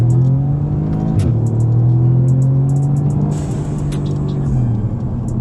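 An imported Audi S3 in sport mode runs with a loud, steady engine drone from inside the car, its pitch shifting slightly as the revs rise and fall, with faint clicks over it.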